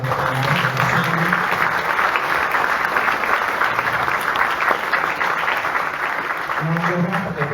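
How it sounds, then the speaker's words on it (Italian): Steady, dense applause from an audience at a ceremony in Nuoro honouring maestro Daniele Cossellu as an ambassador of Sardinian music, sustained and fairly loud throughout with some low murmuring voices underneath. "meritano veramente qua un applauso anche per il maestro Cossellu"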